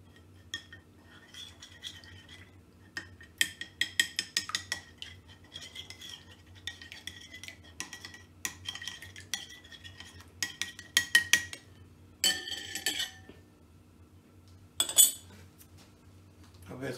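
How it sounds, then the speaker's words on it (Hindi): Chicken strip marinade mixed in a bowl, a utensil clinking and scraping in quick irregular bursts against the dish, close and moderately loud, with brief pauses between rounds of stirring. "थोड़ा मिक्स करेंगे"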